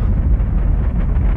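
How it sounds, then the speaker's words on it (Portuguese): A loud, continuous low roar and rumble, steady throughout, of a rocket engine thundering during launch of NASA's Swift spacecraft, with no voices. "A nave espacial Swift da NASA foi lançada numa missão"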